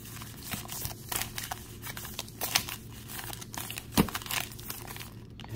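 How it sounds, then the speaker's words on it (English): Close, continuous crinkling and flicking of stiff trading cards being shuffled, with brief snaps and rustles throughout. "We will shuffle these up a little bit."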